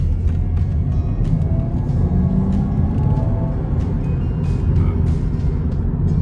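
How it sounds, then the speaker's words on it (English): Steady road rumble from inside a moving truck, with passing traffic and occasional faint clicks and hiss over a continuous low drone. "It's a lot of traffic."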